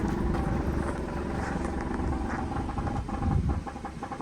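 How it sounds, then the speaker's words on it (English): A 2015 Subaru Forester with a failing muffler runs steadily, a low rumbling exhaust with a buzzy metallic rattle layered over it, fairly loud and close, swelling slightly near the end. "That's what a bad muffler sounds like"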